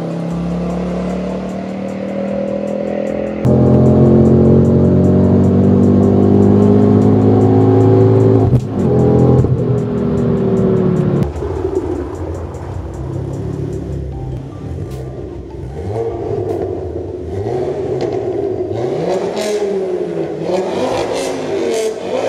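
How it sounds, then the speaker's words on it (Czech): A loud Ford with a Mongoose exhaust and Michelin Pilot Sport Cup 2 tyres revs hard and close, its engine climbing through rising pitches, then dropping back to a rumbling, burbling idle with further blips. "To auto má neuvěřitelný charakter a je to prostě nehorázný randál."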